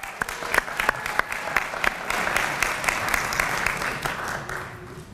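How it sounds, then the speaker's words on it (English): A school health-organization conference audience applauds in a large hall, loud sustained clapping with sharp individual claps standing out near the front and a crowd murmur underneath. "So let's give him a round of applause."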